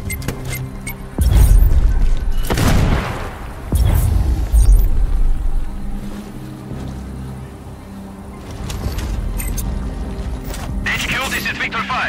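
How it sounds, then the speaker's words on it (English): Explosions in the video game Sniper Ghost Warrior Contracts 2 come as several heavy, booming low thuds in quick succession, mixed with a continuous rumbling game soundscape. "Explosion heard, location unclear, awaiting orders."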